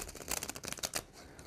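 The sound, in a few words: shuffling a deck of playing cards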